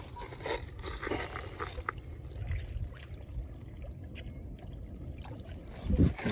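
A silver dime rinsed in water at a tidal mudlarking spot, soft splashing and trickling under wind noise, with a louder slosh near the end.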